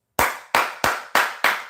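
Five loud, sharp hand claps in a slow, even rhythm, close by and alone, each one ringing briefly before the next.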